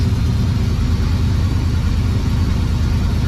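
The engine of a 1987 Monte Carlo SS with fuel injection idles steadily at 1,000 RPM, a loud, low rumbling hum with an even pulsing rhythm and no other sounds.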